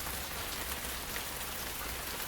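Gentle rain falls steadily in a soft, even hiss of countless drops on a surface, with no voices over it.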